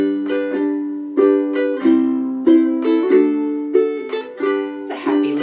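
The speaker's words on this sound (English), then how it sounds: "2-beat strum sounds like this." Ukulele played in a swung two-beat strum, bright chords struck in regular pairs and ringing out between strokes, close and clear with no talking.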